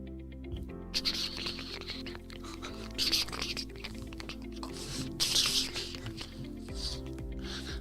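Brewing coffee drips and patters with soft squishy sounds over a low, steady hum, close and fairly quiet.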